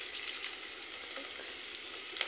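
Dried chillies and garlic fry in leftover oil, giving a steady, close crackling sizzle with small popping bursts and no talking.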